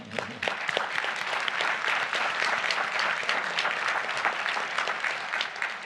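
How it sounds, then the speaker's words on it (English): An audience at a conference opening plenary session gives sustained, dense applause that stays full and steady for the whole stretch, with no voices over it. "let's give a round of applause on that one"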